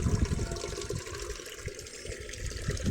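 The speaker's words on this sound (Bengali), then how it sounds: "জলের ট্যাঙ্কিতে জল আছে, সেখানে একটা কল বসিয়ে দিচ্ছে, সেখান থেকে জল নিচ্ছি" Water runs from a tap fitted to a household water tank, a steady close gushing flow filling a container throughout.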